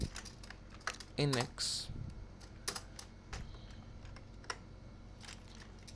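Keys clatter on a computer keyboard in short irregular bursts while writing a Python desktop-assistant script, with brief talk in between and one louder spoken stretch midway.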